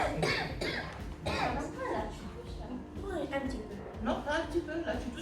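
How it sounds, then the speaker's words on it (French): An older person coughs repeatedly at close range, harsh bursts mixed in with conversation from people nearby. "tu tousses beaucoup"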